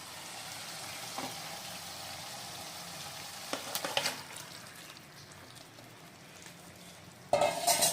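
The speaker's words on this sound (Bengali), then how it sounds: "আর এখন এর মধ্যে দিয়ে নেব ম্যারিনেট করে যে 1 ঘন্টা রেখেছিলাম মাংসটা" Marinated chicken sizzles in hot oil in a pan for a Hyderabadi masala chicken dish. A faint steady fry is heard alone, with a few stirring clinks and a louder sizzle burst at the end.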